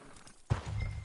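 A horse in the video game Red Dead Redemption 2 gives a single short snort or whinny with a hoof clop, close and moderately loud over a quiet outdoor background.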